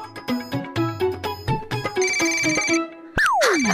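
Phone ringing in a Hindi children's TV show, a melodic electronic ringtone playing in a repeating tune, loud and close, ending with a rising whoosh-like effect.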